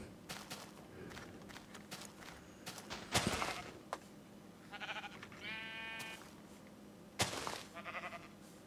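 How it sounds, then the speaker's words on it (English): Sheep bleating in Minecraft, several short wavering bleats in the middle of the stretch alongside footsteps and sharp game clicks, fairly quiet overall with no talking. "Look at that sheep over there."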